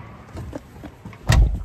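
Car door shut at a self-service car wash in France, a single solid thump after a few light handling knocks, close and fairly loud against a quiet background.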